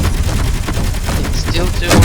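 Turret gunfire in the video game Space Engineers: a rapid run of loud, punchy shots in quick succession, close and dense for about two seconds, ending in a heavier burst.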